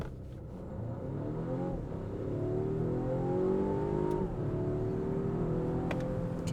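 A Volvo XC60 Recharge Polestar Engineered accelerating at full throttle, a steady loud engine drone that climbs in pitch, dips briefly at a gear change, then rises again from inside the cabin.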